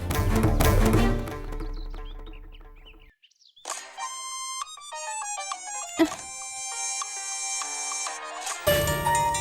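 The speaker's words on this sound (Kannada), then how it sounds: "ರಿಂಗ್ ಆಗ್ತಾ ಇದೆ ಫೋನ್ ತೆಗಿತಾ ಇಲ್ಲ" A bright, tinkling electronic ringtone melody plays in repeated tonal phrases after a burst of music, with no voices over it.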